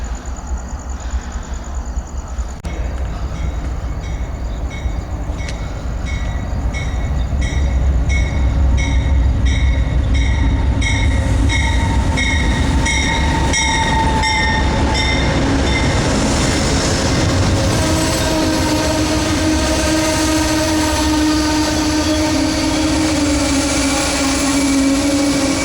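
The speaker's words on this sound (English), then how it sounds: "that's another freight train" A freight train rolls past at close range with a loud continuous rumble, rattling wagons and clattering wheels, growing fuller as it goes and carrying a faint high tonal whine.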